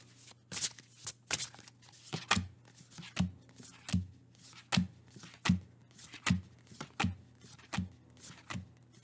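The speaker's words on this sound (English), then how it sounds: "I'm just going to shuffle and then deal out till I get 3 planets" Tarot cards are shuffled by hand in a steady, even rhythm, each riffle a crisp close papery burst repeating about every three-quarters of a second over a faint low hum.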